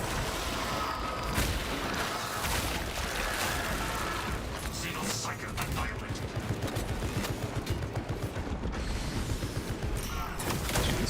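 Tarantula sentry gun opening fire in the Warhammer 40k game Rogue Trader, a dense sustained barrage of rapid gunshots and booming impacts with mechanical clatter, loud and continuous throughout.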